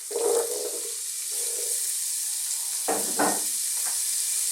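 Onion and celery hit a hot pan for Italian chicken soup, giving soft bursts of sizzle that fade into a steady faint hiss, followed by two more crackling surges as more goes in.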